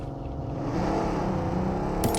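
A vehicle engine hums and revs steadily in the BGMI battle royale game on the Erangel map, a continuous motor drone with a brief metallic click near the end.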